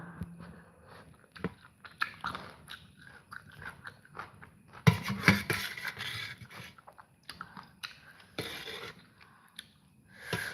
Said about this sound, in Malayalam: പച്ചമുളകടക്കം കടിച്ചോണ്ടാ